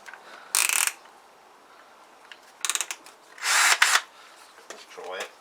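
A tiny drill spins in short bursts, drilling out a broken bolt in a Tamoretti Retro 50 scooter engine, with several whirring pulses of varying length separated by quiet pauses.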